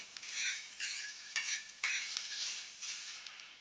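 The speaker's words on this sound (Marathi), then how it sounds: "हे आता कांदा टाकलेला भाजायला हलवत राहायचं" Onion stirred as it fries in a pan for a tomato chutney, giving bursts of scraping and sizzling at a steady stirring rhythm, moderately close and fairly quiet, with no talking.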